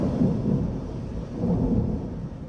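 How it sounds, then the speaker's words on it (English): Deep rolling thunder during a lake-effect snowstorm near Buffalo, a long low rumble swelling and fading in waves, fairly loud with no voices. "near Buffalo, thunder snow"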